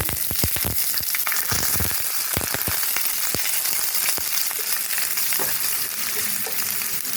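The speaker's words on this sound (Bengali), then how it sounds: "এখন দিয়ে দিলাম পেঁয়াজ কুচিয়ে নিয়েছি এক বাটি, পেঁয়াজ কুচানো দিয়ে" Chopped onions fry in hot oil with whole spices, a steady close sizzle broken by sharp crackles and pops, heard alone without talk.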